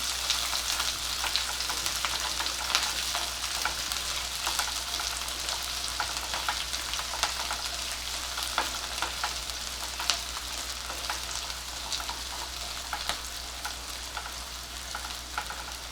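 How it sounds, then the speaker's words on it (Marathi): Sliced onions sauté in hot oil in a pan, a steady, close hiss of frying that runs unbroken throughout, with faint scattered crackles and no voices. "कांदा परतून घेऊया"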